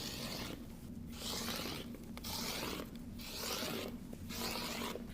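Fabric sliced into 2.5-inch strips, a steady run of rasping cuts in repeated strokes, each lasting about a second with brief pauses between, close and fairly quiet with no talking.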